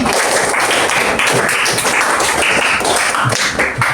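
Classroom group clapping a rhythmic pattern together, dense overlapping hand claps, loud and close, with a few voices mixed in.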